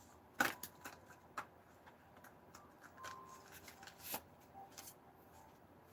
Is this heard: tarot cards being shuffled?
yes